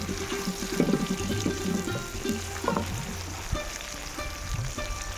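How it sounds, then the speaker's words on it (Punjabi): Chopped tomatoes fry in a pan for mutter mushroom sabji, giving a steady close sizzle. Occasional stirring scrapes and clatters sound over it, and no one speaks. "ਇਹ ਨਾਲ ਹੀ ਮੈਂ ਟਮਾਟਰ ਪਾ ਦੇਣ ਲੱਗੀ ਟਮਾਟਰ ਨੂੰ ਵੀ ਆਪਾਂ ਚੰਗੀ ਤਰ੍ਹਾਂ ਭੁੰਨ ਲੈਣਾ ਹੈ"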